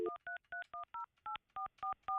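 Telephone keypad dialing tones during a live morning radio show, ten short even beeps in quick succession with brief gaps, clean and alone with no talking over them.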